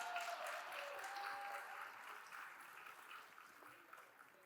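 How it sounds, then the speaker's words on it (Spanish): Faint, distant applause from a conference audience honouring a panelist, an even wash of many hands clapping that slowly fades, with no voices over it. "¡Fuerte los aplausos también para ella!"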